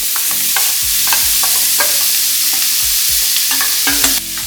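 Marinated conch sautéing with curry powder in a pot, a loud steady sizzle broken by repeated scraping stirs at an even rhythm, close up with no voices.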